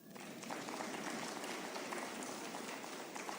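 Audience applause at a Kenyan electoral commission launch event, a dense steady wash of clapping that fills the room from start to finish with no voices over it.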